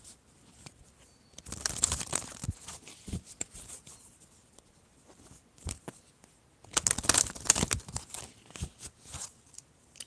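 Riffling, slapping tarot card shuffles come in two bursts, close and crisp, with quieter handling and light rustles in between and no talking.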